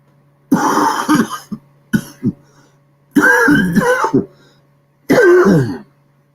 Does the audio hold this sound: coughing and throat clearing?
yes